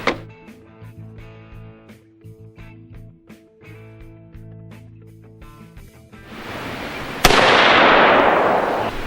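An AR-15 rifle fitted with a Gen 2 AFAB muzzle brake, shot outdoors: quiet ambient noise rises into a single loud, sharp report near the end, followed by a lingering rumble.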